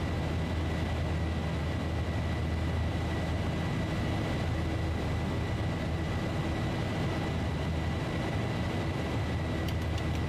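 Boeing 737-800 jet engines at takeoff power in the X-Plane 11 flight simulator, a steady, loud, dense roar with a low rumble that holds constant throughout, with no talking.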